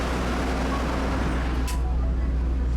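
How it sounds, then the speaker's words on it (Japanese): A Taiwan Railway Pingxi Line train pulling out of Sandiaoling station, heard as a steady low mechanical rumble with a brief hiss partway through, while a voice talks over it. "三町嶺駅を発車です。"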